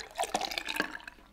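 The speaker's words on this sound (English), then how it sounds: "I might just pour that back in the jug." Melted butter is poured back into a jug with a brief liquid trickle and a few small splashes, close and quiet in a kitchen.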